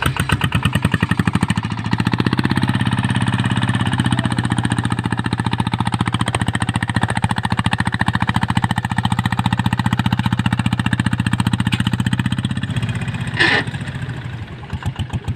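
A powerful vehicle engine runs steadily and loudly up close, its dense rapid firing pulses holding a constant note with a brief sharp clank near the end.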